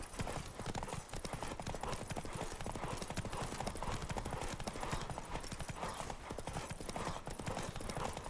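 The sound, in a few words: horse Roach hooves in video game The Witcher 3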